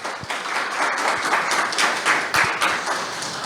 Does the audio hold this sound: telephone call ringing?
no